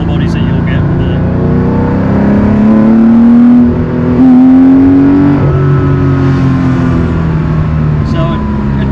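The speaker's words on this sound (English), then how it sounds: "it's got a Dansk muffler on the back, like a big 2 in 2 out. But it's a lot of intake noise you're getting as well." Naturally aspirated Porsche 911 fitted with a big two-in, two-out Dansk muffler and throttle bodies, its engine revving loudly and rising in pitch with strong intake roar, close by, with people talking over it.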